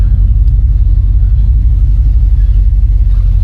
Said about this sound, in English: This LS does sound good with the exhaust